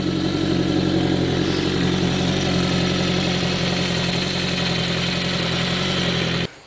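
A Kawasaki GPZ Turbo motorcycle in Arctic white, fitted with a K&N filter on the turbo, idles steadily up close, a loud, even, throbbing engine drone that cuts off abruptly at the end.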